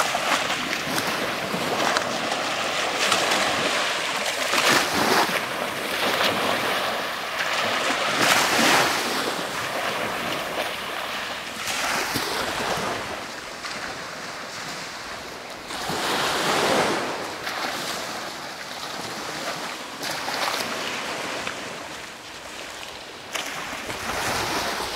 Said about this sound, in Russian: Только мы и море.